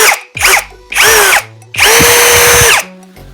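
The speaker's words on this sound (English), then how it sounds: "maybe you like the sound of a power tool" A Litheli U20 20V brushless drill driver whirs in four bursts, revving up and winding down each time, the last burst longest, loud and close.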